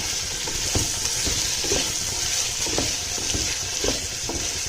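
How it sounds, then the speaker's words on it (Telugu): Vegetables for a veg dum biryani frying in hot oil, a steady close sizzle with soft rhythmic scraping and stirring strokes about once a second, no talking. "వెజిటేబుల్స్ అన్నీ తీసుకోవాలి మంచి ఫ్రై చేసుకోవాలి"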